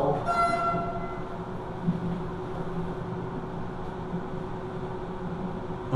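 A Vienna subway train horn sounds at the start with steady tonal notes, then fades into a continuous low rumble of a train running, no talking.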